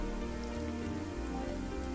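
Steady rain patters on surfaces in the Mars colony game Surviving Mars, a continuous dense hiss over low game ambience and music, with no voices.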